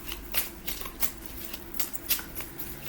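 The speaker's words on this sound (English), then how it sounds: "they're just normal playing cards" Ordinary playing cards are shuffled for a card reading, with quiet, rapid riffling bursts repeating at an even pace, close by and alone.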